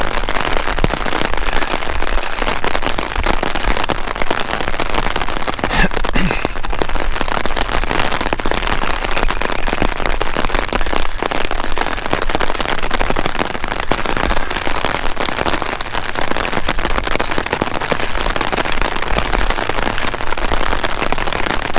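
Heavy rain pours steadily outdoors after a windy, sideways downpour, a dense, loud, unbroken hiss of drops hitting surfaces throughout with no voices.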